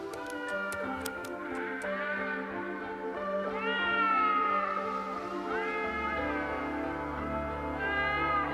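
Domestic cat meowing repeatedly in drawn-out, wavering cries, close and clear, with a few faint ticking taps early on and no talking.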